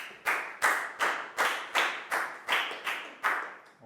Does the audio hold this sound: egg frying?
no